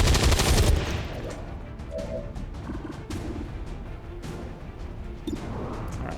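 Gunfire in the video game XCOM 2 Long War of the Chosen: a loud opening burst of shots followed by scattered sharp cracks and impacts over a busy, lower game background.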